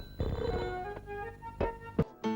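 A telephone rings with a bright electronic tone in a repeating pattern of short bursts, heard close and clear, with brief pauses between rings before it cuts off.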